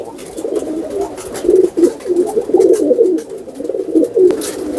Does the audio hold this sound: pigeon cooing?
yes